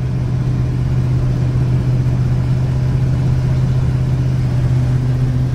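A dually pickup truck's engine runs steadily, a loud, even, low drone heard from inside the cab with no breaks.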